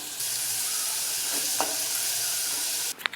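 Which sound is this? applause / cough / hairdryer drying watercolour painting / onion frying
onion frying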